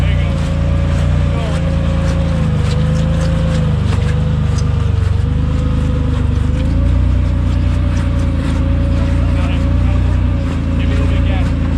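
Rock crawling buggy engine labors steadily while climbing a wet trail in pouring rain, a continuous close rumble with slight throttle swells, rain noise layered over it and people talking throughout.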